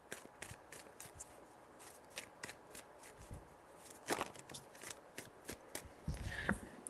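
Cards being shuffled, several riffling bursts with soft taps and pauses between them, close and fairly quiet.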